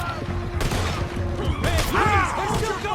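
Gunfire from Red Dead Redemption 2 pops in a couple of sharp, quick shots amid a tense scene, heard under and between voices speaking urgently.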